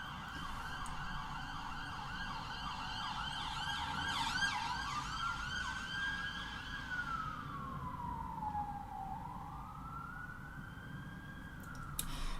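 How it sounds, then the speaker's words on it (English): Emergency vehicle sirens wail from outside, a single siren sweeping up and down in long rising and falling glides over steady background hum, moderately loud and continuous, with no talking. "What is with the sirens?"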